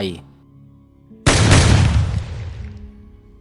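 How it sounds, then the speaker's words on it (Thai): Shotgun blast effect in a Thai audio drama about a hunter and a shape-shifting tiger: after a brief spoken line, a single sudden, loud, booming shot bursts out, then decays over about two seconds. "เสียงจากปืนลูกซองเฟดดังสนั่นออกมา จากที่ซุ่มซ่อนของพรานเสนใกล้ๆบริเวณนั้น"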